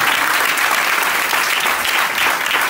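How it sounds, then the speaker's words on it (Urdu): Loud, sustained applause from a church congregation, a dense steady wash of clapping filling the whole moment without pause. "آئیں خداوند کے جلال کے لیے زوردار تالیاں بجائیں۔"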